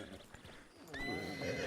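A horse whinnies loudly in the Western game Red Dead Redemption, a sharp rising neigh after a stretch of hoof clip-clop and ambient noise. It sounds fairly close and stands alone, with no voices over it.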